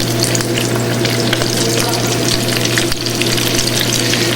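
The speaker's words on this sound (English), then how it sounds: "The shrimp are cooked in hot oil." Shrimp stuffed with yuca fry in hot oil, giving a steady, dense sizzle and crackle that stays loud and close throughout without a break.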